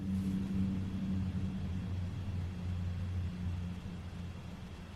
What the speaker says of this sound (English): There's a really loud train going past the house.